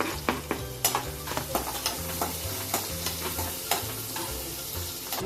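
Chopped onion frying in a pan with chili and cloves, a continuous crackling sizzle punctuated by frequent sharp spatula scrapes and knocks, close and steady over a low background hum.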